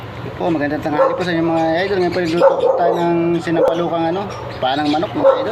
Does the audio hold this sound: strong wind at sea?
no